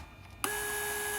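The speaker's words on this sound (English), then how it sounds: "obviously as you heard, the pump, it was activating because" On a Mercedes S320, the door lock vacuum pump switches on abruptly after a quiet moment and runs with a steady electric whine and hum, fairly faint and continuous.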